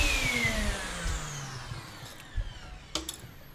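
A dust extractor winds down during a small woodworking cut on a jewellery box decoration. Its whine falls steadily in pitch, and a few faint knocks and clicks follow near the end. The sound is quiet overall, with no talk.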